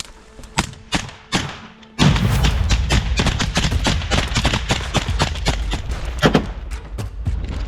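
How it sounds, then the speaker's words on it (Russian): A grenade bursts during close-quarters urban combat: a few sharp thuds, then a sudden loud blast that runs into dense rumbling and crackling impacts until the end. "Граната!"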